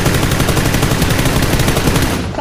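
Dense, continuous automatic gunfire rattles loud and close in a PUBG battle-royale match, sustained bursts filling the whole moment without pause.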